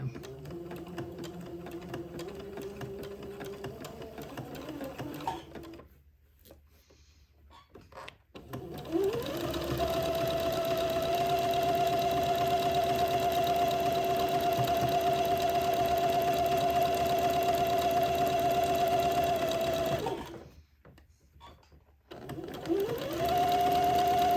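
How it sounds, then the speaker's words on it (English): A sewing machine zigzag-stitches the seams of a funeral pall, running steadily in long continuous bursts with two short pauses between them. Close and loud, with no talking. "this is going to take me a minute to get both of these seams zigzagged"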